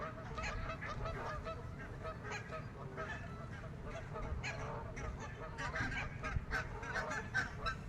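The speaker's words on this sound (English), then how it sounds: "there's a lot of white cheek geese" Many white-cheeked geese honk continuously beside a fishing spot, a dense, layered chorus of calls at moderate distance over steady outdoor background noise.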